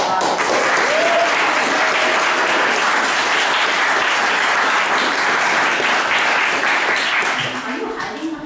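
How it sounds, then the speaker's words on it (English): Loud, sustained applause from a large crowd, dense and continuous, fading slightly toward the end with a hint of voices beneath. "I think we should all give a round of applause for Rob."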